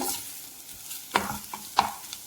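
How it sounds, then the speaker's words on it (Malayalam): Boiled chaya leaves, also called Mexican spinach, stirred in a pan with cooked coconut, a faint sizzle under a few sharp spatula scrapes and clacks against the pan. "നമുക്ക് വേവിച്ചൂറ്റി വെച്ച ചായ മാൻസ ഇല, അതായത് മെക്സിക്കൻ ചീര എന്നറിയപ്പെടുന്ന"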